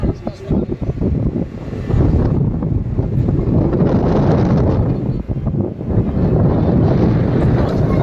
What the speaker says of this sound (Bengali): হাওয়ার যে শব্দটা ওটাও শোনা যাচ্ছে, এত পরিমাণে হাওয়া দিচ্ছে